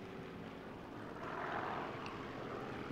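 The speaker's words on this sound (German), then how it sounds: "gerade fliegt hier so ein Flugzeug lang" In the video game Sniper Elite 4, an airplane drones past as a steady broadband engine roar that swells toward the middle and stays loud to the end.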